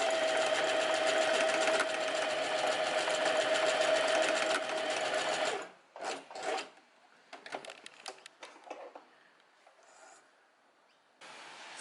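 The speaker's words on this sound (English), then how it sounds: "now I'm just gonna slowly start sewing" A sewing machine runs slowly through linen fabric for shorts, a continuous rapid whirring hum for several seconds, then stopping and restarting in short, uneven bursts with quiet pauses between.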